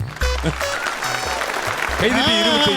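Audience applause at a stage event in Madurai where a young boy plays the flute, steady clapping running throughout while someone speaks over it.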